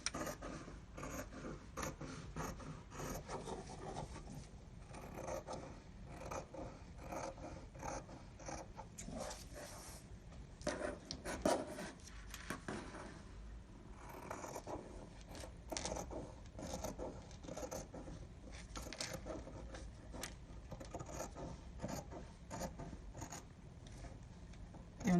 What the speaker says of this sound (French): on essaye de ne pas couper le papier avec le ciseau à tissu